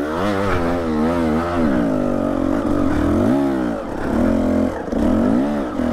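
Dirt bike engine on a trail revving up and down repeatedly, loud and close, pitch rising and falling through several throttle blips.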